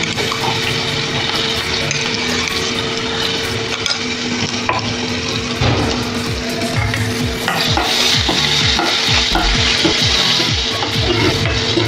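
Coarsely ground cumin, green chilli and garlic paste with a pinch of asafoetida frying in hot oil for a spinach bhaji, a loud, dense, continuous sizzle with scraping stirs close up and no voices.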